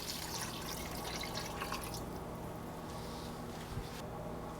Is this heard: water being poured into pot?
yes